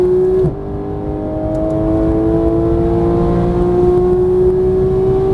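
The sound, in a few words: Porsche GT3 engine accelerating on a race track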